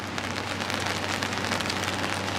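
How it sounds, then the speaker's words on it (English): Steady rain pours down outdoors on a rare cold, rainy day in St. Cloud, Florida, a dense even hiss of drops on surfaces with no voices. "it's a rainy day, a rare cold and rainy day here in Florida"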